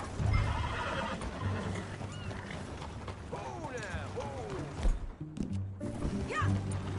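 Horses in the Red Dead Redemption video game whinny and neigh repeatedly over clip-clopping hooves and mechanical clatter, loud and close throughout.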